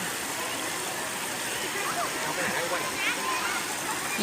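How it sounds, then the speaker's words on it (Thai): Steady rushing water from Khlong Maduea waterfall in Nakhon Nayok, a continuous broadband splash and gurgle filling the scene, with faint voices and a few shouts mixed underneath. "สวนลุงพ ร นครนายก น้ำตกคลองมะเดือ"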